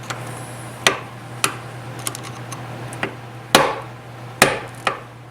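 A screwdriver used as a chisel is struck with a hammer in a workshop during a Chevy S10 V8 swap, giving about seven sharp metallic blows at an uneven pace, close and clear over a steady low hum.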